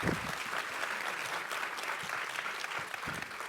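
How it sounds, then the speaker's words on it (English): A welcome-ceremony audience claps steadily throughout, a dense, even wash of hand claps at moderate level with no talking over it. "I want to give you all a round of applause again"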